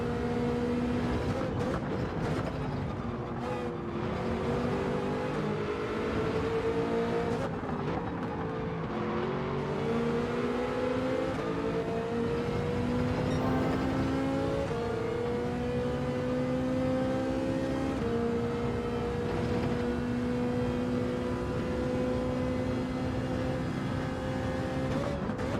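Ferrari race car engine in Gran Turismo 7 during an online race, a steady loud high-revving drone with repeated gear shifts and rising pitch sweeps, continuous throughout with no voices.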